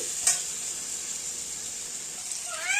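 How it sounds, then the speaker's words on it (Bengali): Boiled potatoes and green peas frying in a pan for aloo matar, a steady bright sizzle throughout with a brief stir clatter near the start and another toward the end, close and fairly loud, no talking. "আলু আর মটরশুঁটিটা ভাজা হচ্ছে"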